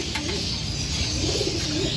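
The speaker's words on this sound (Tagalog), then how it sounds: "So yun mga kalapati" Soft, low pigeon coos repeat in a rolling rhythm, close by in a pigeon loft, over a steady background hiss.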